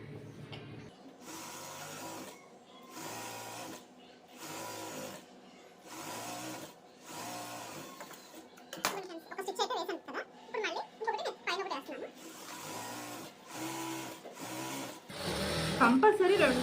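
Sewing machine stitching a blouse waistband, bursts of rapid mechanical whirring in short repeated runs, with someone talking between and over the stitching.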